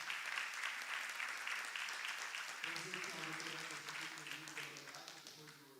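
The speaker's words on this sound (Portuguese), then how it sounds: "Uma salva de palmas para os nossos painelistas." Audience applause for the panelists at an AI meetup in Brazil, steady clapping throughout, with voices talking over the later part as the crowd keeps applauding.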